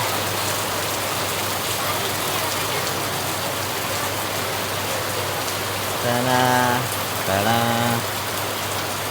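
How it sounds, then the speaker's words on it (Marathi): Heavy rain falls in Badlapur during the monsoon, a loud continuous patter and hiss on surfaces, with a voice briefly speaking over it toward the end. "खूप पाऊस आहे भाई, बेकारवाला पाऊस आहे."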